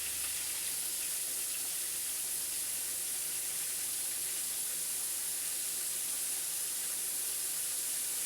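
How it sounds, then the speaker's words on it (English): Steady, soft sizzling hiss of deer meat frying in a pan like cube steak, continuous and fairly quiet with no voices. "I don't know if you can hear it sizzling,"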